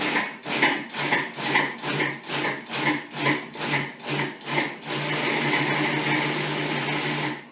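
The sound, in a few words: food processor pulsing and pureeing apricots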